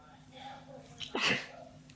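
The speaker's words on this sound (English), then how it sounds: "I gotta sneeze." A single close, sharp human sneeze bursts out over quiet room tone, preceded by a faint breath.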